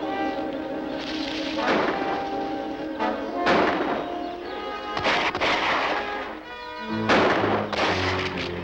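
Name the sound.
gunshots, shooting in the jungle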